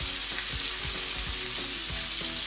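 Garlic butter shrimp sizzle in a pan on high heat, a dense and steady frying hiss with a few soft stirring and turning knocks close by.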